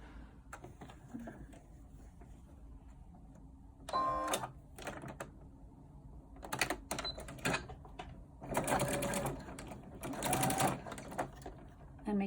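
Sewing machine back tacking a pleated cloth face mask, several short bursts of rapid stitching separated by pauses, fairly close and alone.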